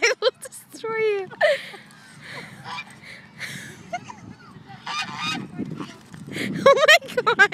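A goose honks at a miniature pinscher dog outdoors, with several loud nasal honks near the start and again toward the end. People talk and exclaim between the calls.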